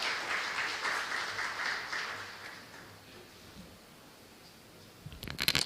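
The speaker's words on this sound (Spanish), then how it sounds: "Le damos un fuerte aplauso" An audience at a university conference on forest fire risk in the Chiquitania, Bolivia, claps for a presenter, a moderate, dense patter that fades to near silence before a few sharp close knocks at the end.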